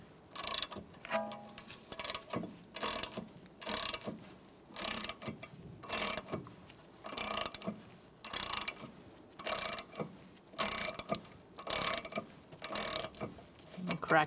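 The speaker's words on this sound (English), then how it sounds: "Using a 14mm socket, we're going to loosen up these bracket bolts." Ratchet with a 14mm socket loosening the rear brake caliper bracket bolts on a 2014-2019 Kia Soul, a series of repeated bursts of clicking pawl action at close range, with no talk.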